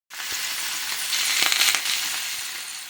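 Three NY strip steaks sizzle loudly on a hot grill plate, a dense, steady crackling hiss that swells briefly with sharper spatters midway and carries on without any voices.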